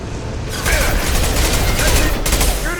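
Rapid sustained gunfire from a Mass Effect 2 firefight, a loud dense barrage of shots with booms rolling continuously, with shouted voices over it.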